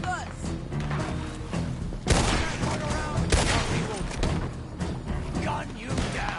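Rapid gunfire fills a Red Dead Redemption 2 firefight, dense overlapping shots and booms throughout, loud and close, mixed with engine-like rumble and voices speaking underneath.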